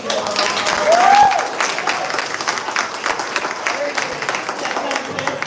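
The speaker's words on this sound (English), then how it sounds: "Let's give them a round of applause." An audience at a primary school spelling competition claps and cheers for the winners, a dense, steady patter of applause from a crowd indoors, with voices mixed in.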